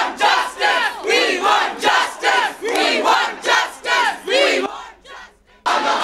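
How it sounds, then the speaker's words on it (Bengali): Students at a Kolkata law college chant a protest slogan in unison, a loud, tight crowd repeating the same short phrase over and over in a steady rhythm, with a brief lull near the end before the voices surge back. "তাঁদের দেখে উই ওয়ান্ট জাস্টিস স্লোগান দিতে থাকেন পড়ুয়ারা।"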